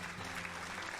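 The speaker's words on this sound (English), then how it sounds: "The audience applauds," Game sound effect of an audience applauding after a magic performance in Cinderella Phenomenon, a brief, faint, even wash of clapping.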